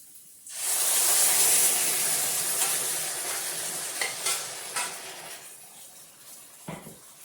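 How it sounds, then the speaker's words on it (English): Alfredo sauce poured into a pan holding browned chicken and zucchini, setting off a strong steady sizzle that fades gradually, with a few clinks and stirring scrapes near the end and no talk. "So I'm going to pour in the sauce."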